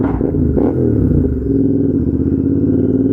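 A Royal Enfield Interceptor 650 with a straight-through exhaust idles loud and close, a steady deep throbbing rumble with a slight rise in revs early on, with no voices over it.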